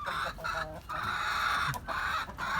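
A hen clucks in a backyard farm nest, close repeated throaty clucks with short breaks, against faint surrounding farmyard noise.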